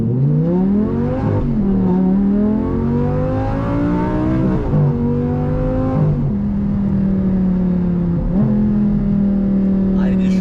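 A V10 supercar engine accelerating hard through the gears, its loud, close howl climbing in pitch and dropping briefly at each of several shifts before rising again.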